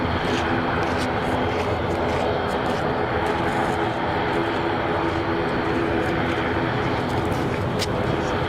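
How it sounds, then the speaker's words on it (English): A Dash 8 turboprop airliner taxiing at Zurich airport gives a steady, distant droning hum that carries on without a break under broad background noise. "I can hear a Dash 8 taxiing somewhere."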